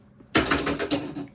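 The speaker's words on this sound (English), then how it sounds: "use a typewriter, which is what that noise was" Typewriter keys clatter in a quick burst of sharp mechanical strikes, close and loud after a quiet start, with a couple of distinct heavier hits among the rapid clicks.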